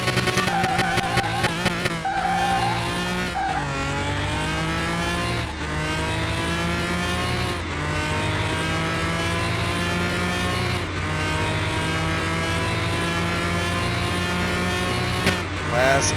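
A Lamborghini roars at full throttle over a mile-long top-speed run toward 200 mph, loud and continuous, its engine note climbing steadily through each gear with brief dips at the shifts.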